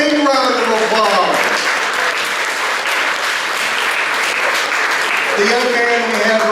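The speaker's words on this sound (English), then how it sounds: "A big round of applause." Loud, sustained audience applause fills a crowded room at a stage show, dense clapping running throughout with a voice talking over it at the start and again near the end.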